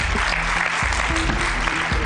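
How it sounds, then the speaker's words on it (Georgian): Studio audience applauding on a television talk show, a dense, steady wash of clapping that fills the whole moment without pause. "ძალიან კაი, აპლოდისმენტები."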